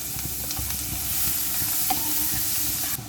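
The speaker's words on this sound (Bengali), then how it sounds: "জিরাগুলোকে আমরা বাটারে ভাজবো।" Cumin seeds and chopped onion frying in butter, a steady close sizzle with occasional stirring clinks and scrapes in the pan, no one talking.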